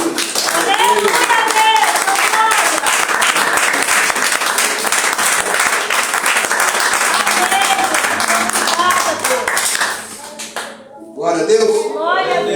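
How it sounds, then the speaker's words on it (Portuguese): A church congregation applauding at a worship service, with loud, sustained clapping from many hands mixed with voices, fading near the end as someone begins speaking. "Aplauda o nome do Senhor Jesus"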